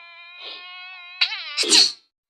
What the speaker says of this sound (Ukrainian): Тут муха.